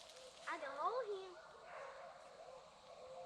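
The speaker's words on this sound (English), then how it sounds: "here comes some dogs" Hunting hounds on a deer dog drive bay and yelp in the distance, a burst of rising, wavering howls followed by fainter barking through an outdoor hush.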